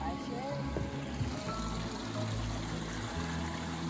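Calm water of Black Creek running over rocks beneath a bridge in Murphy's Point Provincial Park, a steady close trickle and wash continuing throughout, with low rumbling and faint voices or other noise mixed in underneath.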